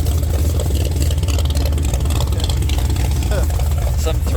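A loud car engine idles and rumbles at a night car show at Rockynats, a steady deep drone throughout with voices talking over the engine noise.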